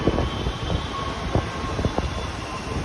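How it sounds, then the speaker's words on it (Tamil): A Chennai Metro train arrives at a station with a steady rolling hum and soft rhythmic thuds from the wheels, moderately loud and even throughout. "வந்து ட்ரெயின் வருது"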